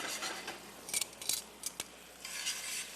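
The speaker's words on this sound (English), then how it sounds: "It's sizzling nicely." Garlic sizzles in hot olive oil with a steady crackling hiss, broken by a few sharp metallic clinks of a utensil against the pan.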